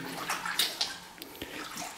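Water splashes and trickles inside an old honey bunker, with a few close, uneven sloshes and drips over a couple of seconds, heard on its own without talk.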